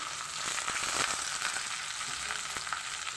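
Flat beans fry in a little oil, giving a soft, steady sizzle with faint scraping as they are stirred, quiet and close with no voices.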